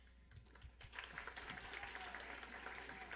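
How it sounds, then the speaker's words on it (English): A room full of people breaks into dense, steady applause, clapping picking up after a moment and continuing evenly, heard from a modest distance. "I'd like to invite you to join me in applauding Les Schrenk"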